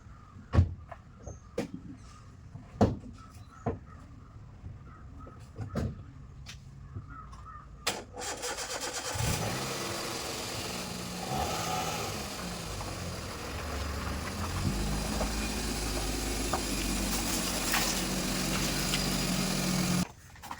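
A few scattered clicks and taps, then a modified Maruti Suzuki Alto's engine abruptly starts nearby and settles into a steady, rumbling idle until the end.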